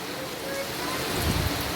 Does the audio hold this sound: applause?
no